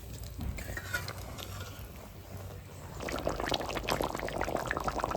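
Water poured into a pan of mustard pomfret fish curry, a running splashing wash that grows louder in the second half, with no talk.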